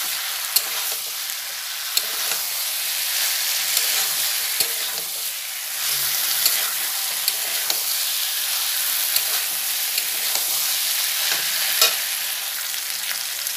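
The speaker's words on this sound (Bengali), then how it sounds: "দিয়ে আবার বেগুনটাকেও ভালো করে মশলার সঙ্গে মিশিয়ে নেব" Fried eggplant being stirred with spices in a pan for an aloo begun torkari, a dense, loud, continuous sizzle with frequent small scraping ticks from the spatula, and no speech.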